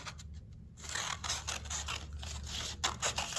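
Scissors snip through orange paper for a candy corn craft, a series of crisp close cuts and scraping blade strokes in quick succession, with no talking.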